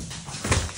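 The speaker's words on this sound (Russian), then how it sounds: "Ну, и что ты гавкаешь?" Dog whimpering and giving a short yip, close by indoors in a home kitchen, one brief whiny burst without talk.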